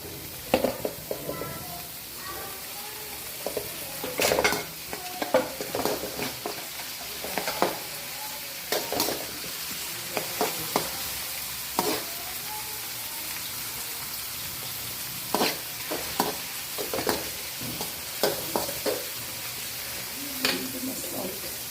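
Green beans frying in oil in a pan while being stirred, a constant sizzle broken by frequent close scraping and clinking strokes of the spoon at an uneven rhythm.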